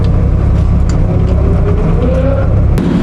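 A 250HP BMW drift car roars continuously through a lap at a drift competition, a loud steady engine drone with a brief rising rev near the end.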